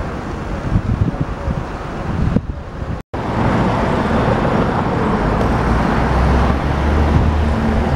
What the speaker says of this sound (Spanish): Menuda locura de coches para arriba y para abajo